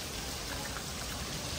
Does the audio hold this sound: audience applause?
no